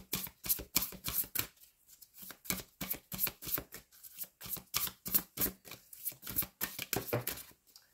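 Tarot cards being shuffled by hand: rapid bursts of crisp riffling and flicking, repeated in quick rhythmic runs with brief pauses, close and clear with no talking.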